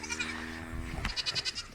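A goat bleats in a farmyard, a few calls in a row, close and fairly clear. Low rustling and movement sit beneath the calls.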